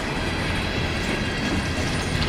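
A CSX mixed freight train rolls steadily past at Lansdowne, its broad, continuous rumble of wheels and railcars filling the whole stretch loudly and close by, with no voices.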